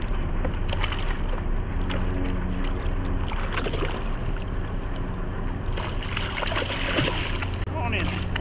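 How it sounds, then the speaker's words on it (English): Paddling a small boat without a motor while landing a rainbow trout, with steady wooden paddle knocks, water splashes and wind under ongoing talk. "No motor, this is old school fish. Just under paddle power."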